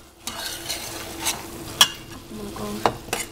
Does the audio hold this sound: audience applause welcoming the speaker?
no